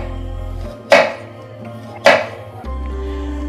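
Two sharp, isolated knife strikes on a cutting board as an onion is chopped, close and distinct, about a second apart over a low steady background hum.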